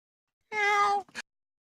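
A single drawn-out meow followed by a short clipped yelp, heard close and clear against silence, with a harmonic tone that could be a person imitating a cat.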